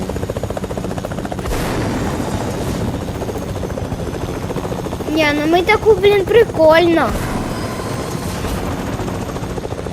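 A Fortnite helicopter's steady rotor drone runs throughout a battle royale match, with bursts of gunfire-like game sounds in the middle, while two people chat over it in Ukrainian.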